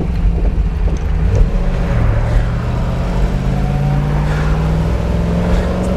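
Restored classic convertible with the top down cruising at about 40 mph, its engine turning near 2,300 rpm, a steady close drone with wind buffeting across the microphone throughout.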